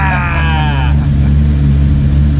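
A Porsche 964 Turbo, an air-cooled 911 Turbo flat-six, runs loud and close with a steady, throbbing low idle throughout, a thin whine riding over it for the first second.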